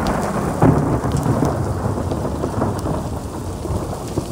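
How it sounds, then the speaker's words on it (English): Thunder rumbles continuously through a thunderstorm with steady rain and small hail falling around a bikepacker sheltering outdoors in the cold, a loud, broad, unbroken roar with a sharper crack near the start. "a whole lot of thunder and lightning going on around me"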